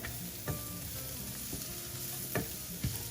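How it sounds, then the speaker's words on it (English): Shallots and garlic sauté in oil in a pan with a steady, moderate sizzle, broken by a few scraping stirs. "Get that sauteed in the pan. And our shallots. Saute those for a little bit."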